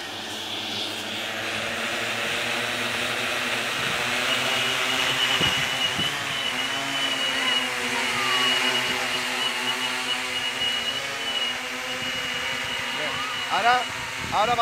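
The motors of an 850-size hexacopter drone spin up for takeoff, a loud steady buzzing whine that rises smoothly and holds, with people talking over it and a few clicks near the end.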